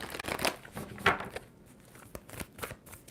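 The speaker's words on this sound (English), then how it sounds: "2 more shuffles for Scorpio." Tarot cards are shuffled by hand, giving several close, crisp riffles and slaps in quick succession, separated by a short quieter pause.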